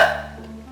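A voice imitates a hiccup while reading a children's story about a little penguin, one short loud hic with a brief voiced tail, alone and close.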